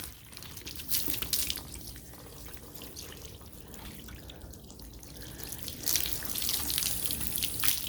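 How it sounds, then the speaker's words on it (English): Garden hose spraying water over a car during a ceramic spray coating job, a steady hissing splash that swells louder near the end, with no talking. "Put the hose down so I don't soak everybody."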